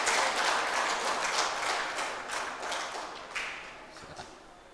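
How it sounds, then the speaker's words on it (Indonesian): An audience at an Indonesian ministerial visit ceremony gives steady, dense applause that starts full and gradually thins out, with a few louder individual claps near the end. "Iya, tepuk tangan."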